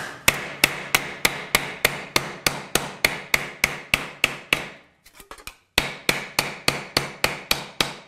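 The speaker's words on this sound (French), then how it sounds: "je peux aussi redresser la forme sur l'enclume de l'étau" Steel hammer strikes metal on the small anvil of a bench vice, a steady run of sharp ringing blows about three per second, close and loud, with a brief pause of scraping handling before the rhythmic hammering resumes.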